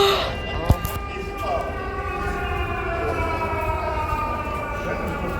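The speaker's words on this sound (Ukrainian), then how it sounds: "Капець, там сирена у нас." A long, steady air raid siren wails in the distance over Lviv, holding its pitch over a constant rumble, with a brief thump near the start.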